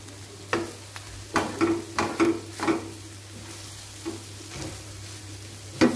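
Naem, Thai fermented pork mixed with egg, fries in a pan with a little oil. A soft sizzle runs throughout, broken by a few sharp spatula scrapes and stirs that come in quick bursts, then thin out.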